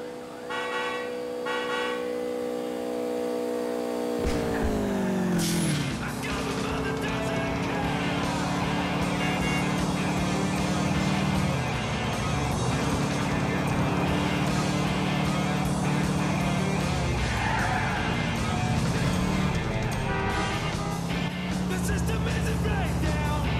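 A Sultan RS car in GTA IV driving fast, its engine droning loudly and steadily with rising and falling pitch as it shifts, interrupted by a brief lull, while someone talks over it.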